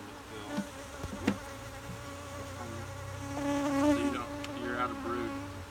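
Honeybees buzz around an open hive during a brood frame inspection, a steady close hum with shifting pitch that swells toward the end, with a few light knocks of handling early on and no speech.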